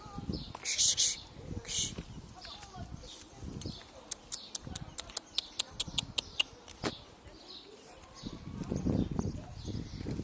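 Pigeons in a backyard coop give soft coos and brief bird calls, with a run of sharp clicks and some fluttering nearby as someone talks intermittently.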